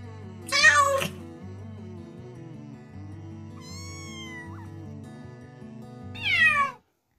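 A cat meows twice, a loud wavering cry near the start and another near the end, set over a light children's alphabet-song backing with a faint high sung or synthetic tone in between.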